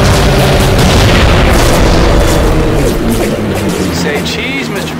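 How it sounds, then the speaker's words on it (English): A supply dump blows up after an incendiary bomb hits it in the Heroes of the Pacific video game, making a loud, sustained rumbling explosion that slowly fades. A voice talks over part of it. "that must be the main supply dump. Ought to go off nicely when we drop an incendiary on it."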